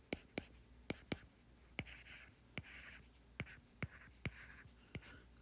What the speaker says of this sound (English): So let's go ahead and write that down.